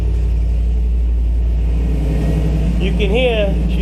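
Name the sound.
car engine exhaust through muffler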